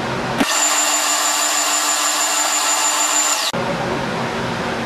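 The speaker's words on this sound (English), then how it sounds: "Now we're going to go ahead and do the concave areas with this spindle sander." A spindle sander shaping the concave curves of a wooden guitar template: a loud, steady whine with a high tonal hum for about three seconds, close up, under constant background noise.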